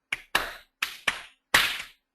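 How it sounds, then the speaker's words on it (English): Five sharp hand claps recorded by one person to mark a dance rhythm, spaced irregularly in two quick pairs and a final louder clap, close and dry against silence. "and I clap"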